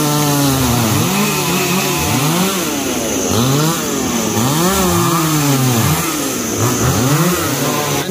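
A chainsaw cuts down a mango tree, its engine loud and close, rising and falling in repeated revving swells as the blade bites into the wood, with no talking.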